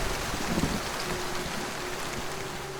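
Steady rainstorm at night, a dense, even hiss of rain holding at a constant level for the whole stretch, with a low rumble underneath that may be distant thunder. No voices are heard.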